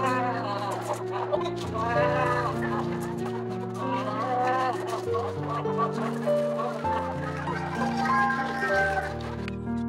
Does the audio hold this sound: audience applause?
no